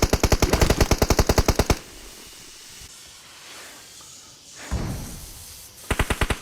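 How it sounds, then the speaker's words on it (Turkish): Rapid bursts of automatic gunfire from across the street in PUBG on the Erangel map, loud and close, opening and closing the stretch with a hissy, echoing lull and a muffled crash in between. "Karşı binalardan sıkıyorlar bu arada"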